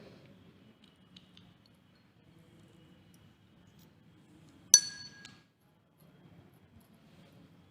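A single sharp clink of a laboratory watch glass near the middle, bright and ringing briefly, with quiet low background rumble and soft handling noises around it.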